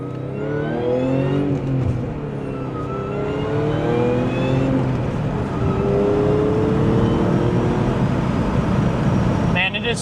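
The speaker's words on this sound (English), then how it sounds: "It is so weird listening to that supercharger with the windows down." A supercharged Audi S4 on a night drive with the windows down, engine tone rising and falling through gear changes with a whining supercharger and road and wind noise, heard continuously and up close.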